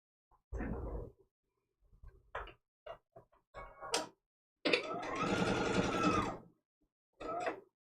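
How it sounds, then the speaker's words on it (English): A sewing machine stitches a foundation paper-pieced quilt block. It starts with a few short, scattered stitching bursts, then runs in one sustained close-up stretch, followed by a brief final burst. Nobody speaks. "we're going to bring this to the sewing machine."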